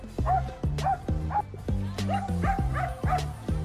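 A small dog barking at passing cars on a street near crossing schoolchildren, a close series of sharp yipping barks in a quick, uneven rhythm with whiny tails.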